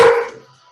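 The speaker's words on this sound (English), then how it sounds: "If he barks, he puts this in his mouth." A single close dog bark, loud at first and quickly fading away, with no talking over it.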